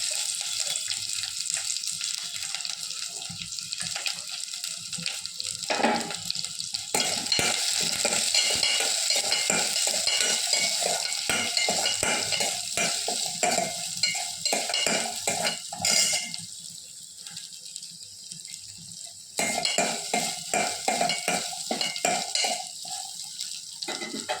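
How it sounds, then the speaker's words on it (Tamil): Small onions sautéing in a pan hiss continuously, with frequent spoon scrapes and stirring clatter. The sizzle dips and swells over a long stretch with no talking. "இந்த அளவுக்கு வெங்காயம் வதங்கினா போதும்"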